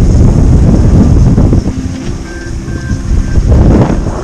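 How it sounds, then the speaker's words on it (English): Strong wind buffets the microphone aboard a sailboat cruising along the Ventura coast, a loud, continuous roar that dips slightly midway while faint tonal beeps sound underneath. "That nice wind in the sail."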